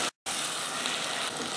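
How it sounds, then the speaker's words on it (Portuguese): Ground beef frying in a pan, pressed against the bottom and releasing a little water, gives a dense continuous sizzle, close and even, briefly cut by a short gap near the start, with no speech. "Vamos pressionando a carne contra o fundo da panela e vamos deixar a carne fritando."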